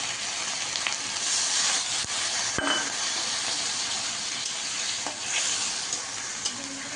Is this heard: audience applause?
no